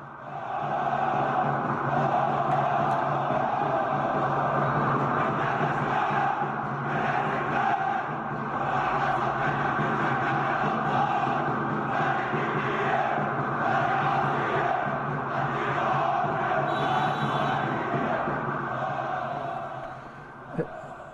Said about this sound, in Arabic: احنا نسمع الناس صوت الجمهور والهتاف بتاعه